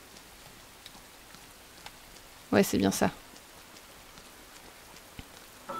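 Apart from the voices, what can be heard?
rain falling in the video game Rain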